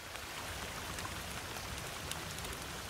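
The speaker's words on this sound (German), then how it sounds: "Ja, regnet ein bisschen hier, ne?" Steady rain falls in The Forest in VR, a soft even hiss of drops with occasional faint patters, continuous and fairly quiet throughout.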